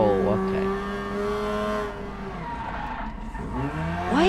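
A Mazda Cosmo Sport with faulty brakes in a racing game skids and squeals its tires under revving engine noise, the squeal sweeping and fading, then returning sharply at the end.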